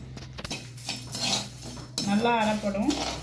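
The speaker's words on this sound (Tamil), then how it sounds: "இப்போ நல்லா ட்ரை ரோஸ்ட் பண்ணணும்." Coriander seeds and spices dry-roasted in a pan, heard as metal clinks and scraping of a spoon against the pan, with a faint sizzle and a brief voice in the background.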